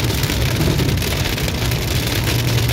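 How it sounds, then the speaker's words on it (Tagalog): Heavy rain pours in a dense, loud, steady roar, with no talking over it. "Ayan na, lakas ng ulan na dito mga guys."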